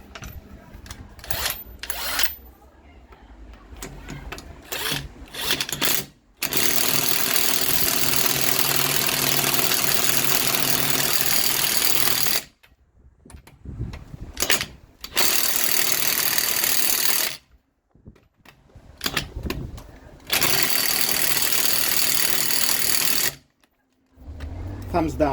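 A Parkside 20V cordless impact wrench hammers at a very tight bolt in several long, loud bursts of rapid rattling impacts separated by abrupt silences and brief handling noises, with a person talking in the gaps.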